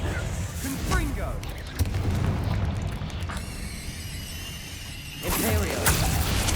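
A Confringo fire spell detonating in Hogwarts Legacy, loud booming blasts and whooshing bursts layered over game effects and voices, with a fresh surge of explosive noise near the end.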